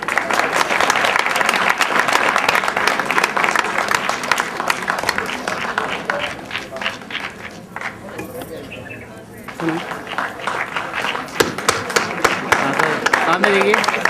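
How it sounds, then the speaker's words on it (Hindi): Audience applause at a school farewell event, a dense wash of many hands clapping that dips briefly mid-clip before swelling again, with scattered voices and cheers mixed in. "तालियों में कंजूसी क्यों भाई?"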